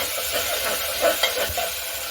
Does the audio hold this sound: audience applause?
no